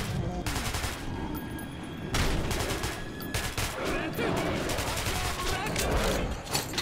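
Sustained bursts of gunfire in the video game Metro 2033 Redux, dense and loud throughout, rattling in rapid fusillades with brief pauses between volleys.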